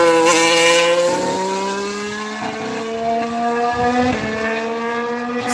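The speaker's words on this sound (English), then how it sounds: "That was just a practice start from Mercedes." A Mercedes Formula 1 car revving through a practice start, a loud, close, rising engine whine climbing in pitch through several upshifts without pause.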